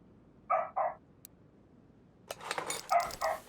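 A dog barks in the background of a car mechanic game livestream, two quick barks followed after a pause by a louder burst of several barks and yips, moderately near.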